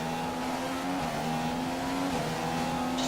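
A Formula One-style race car in a racing video game at the Chinese Grand Prix screams at full throttle, a steady high engine whine that shifts pitch at gear changes, loud and continuous with no talk.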